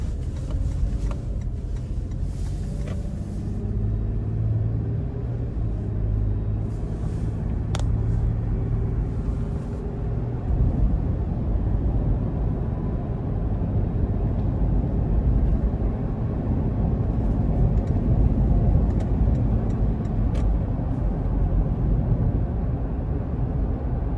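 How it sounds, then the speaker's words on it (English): Steady low road rumble and engine hum inside a 2021 Toyota 4Runner Limited on a test drive. The cabin noise stays continuous and even throughout, with no talking. "take this 2021 4Runner Limited out on the road for a quick test drive"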